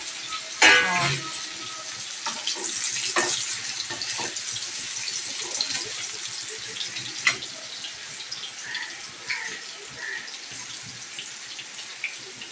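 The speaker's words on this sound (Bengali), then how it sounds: "আলুগুলো ফ্রাই হচ্ছে" Potatoes deep frying in a kadai give off a continuous sizzling hiss dotted with sharper crackles and pops, heard alone at a moderate level.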